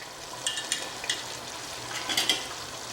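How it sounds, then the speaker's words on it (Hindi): Masala with garlic and ginger frying in a pot for Mughlai chicken curry, a soft continuous sizzle with several close scraping stirs of a spoon, and no talk. "हम अच्छा बढ़िया भून लेते हैं"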